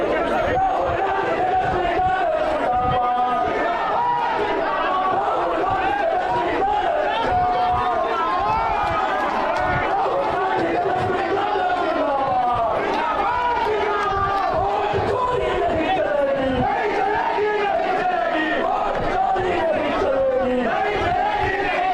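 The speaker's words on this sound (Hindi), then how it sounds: "पूरा मैदान तालियों और नारों से गूंज उठा।" At an election rally in Bihar, a large open-ground crowd roars continuously, clapping and chanting slogans in a dense, loud wash of voices that never lets up.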